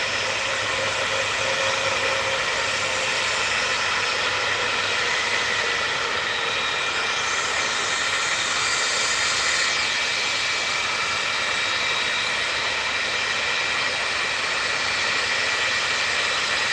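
Boeing 757 engines roaring steadily at Manchester Airport, a continuous loud whine and rumble with a rising swell in the middle, heard alone without talking.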